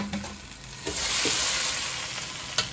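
Potato palya being stirred in a pan with curry leaves and chilli, Hubli Karnataka style: steady frying sizzle with a few scraping stir knocks, close and moderately loud, no talk.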